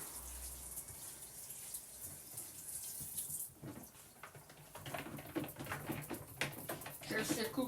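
Running tap water pours steadily over a tart base as it is wetted, a continuous hissing stream with clattering handling and a short pause midway, growing busier toward the end.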